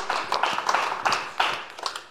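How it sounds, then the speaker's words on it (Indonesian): A small audience claps for a couple of seconds, scattered hand claps in a quick, uneven patter at moderate volume. "Tepuk tangan buat Bunda Sarwenda."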